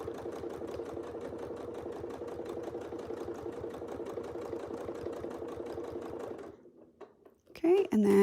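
A sewing machine free-motion quilting runs in a fast, even stitching rhythm up close for several seconds, then stops, followed by brief handling sounds and a voice.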